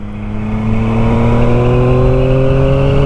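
Yamaha MT-09 SP motorcycle accelerating hard in fourth gear, its loud engine note climbing steadily in pitch, heard close from the rider's position with strong wind noise underneath.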